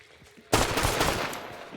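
Gunfire from a weapon in the video game Hunt: Showdown erupts after a quiet half-second, a sharp loud report followed by a rolling burst of shots and echo that fades slowly, with no speech.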